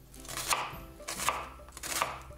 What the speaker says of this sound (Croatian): Luk nasickati na sitne kockice.